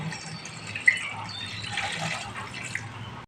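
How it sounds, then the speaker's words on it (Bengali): Lukewarm water poured into a pot of chicken curry with potato and papaya, a soft continuous splashing and gurgling of liquid that stays fairly faint and steady for about three seconds. "এবার হালকা কুসুম গরম জল দিয়ে দেব।"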